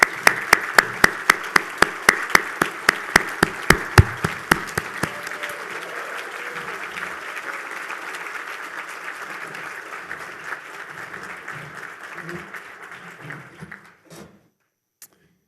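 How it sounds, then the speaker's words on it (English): Gala audience applause at the WJCS Gala 2024 as staff stand: a few sharp, loud individual claps ring out first over a full round of clapping that carries on steadily, then thins and dies away near the end. "I'd like to ask them to stand for a moment of applause"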